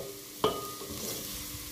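A spoon stirs flour being roasted in a pot for a chicken and vegetable beetroot soup, with one sharp scrape followed by soft, faint sizzling and stirring.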